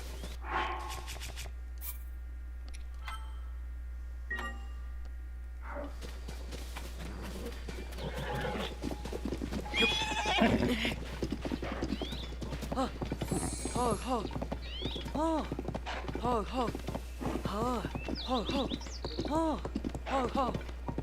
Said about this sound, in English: Here's some horses here.